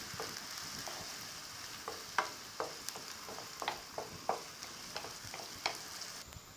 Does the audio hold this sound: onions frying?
yes